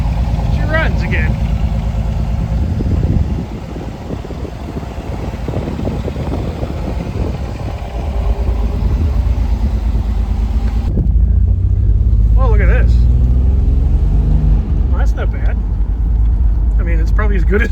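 The engine of a Pontiac Fiero GT runs steadily after a new fuel pump and adjustments, its low idle rumble continuing beneath voices that speak over it through most of the stretch.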